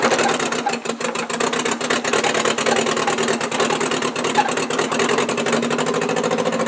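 The engine of a 1959 Morris Minor 1000 with a bad spark plug wire runs rough and misfires, making a loud, continuous uneven chugging with irregular stumbles in its rapid firing rhythm.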